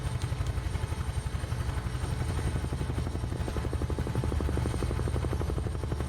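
UH-1H Huey helicopter in Microsoft Flight Simulator, a steady low rotor thump with a continuous turbine whine, constant and fairly close, with no voices.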